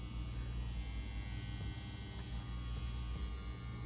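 A CNC WE Plus wireless tattoo machine runs with a steady, close electric buzz and hum that holds even throughout, with no talking.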